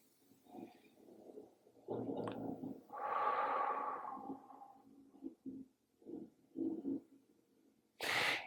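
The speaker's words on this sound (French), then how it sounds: "Les mains sur l'abdomen, on inspire." Slow, deliberate breaths during a guided breathing exercise with hands on the abdomen, with several soft breaths and one long, louder inhalation, close and quiet, ending in a sharp sniff or snort.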